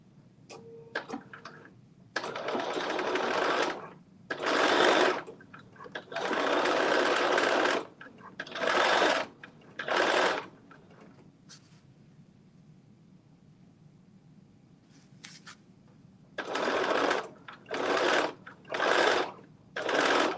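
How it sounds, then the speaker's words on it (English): A sewing machine stitches around garment pockets at a 5/8 inch seam allowance, running in several loud bursts separated by quiet pauses. "let me stitch around these pockets. And I'm doing a 5/8 inch."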